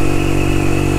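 A 125cc motorcycle fitted with a Black Widow exhaust is ridden on the road, giving a loud, steady, unbroken engine drone over a brief moment.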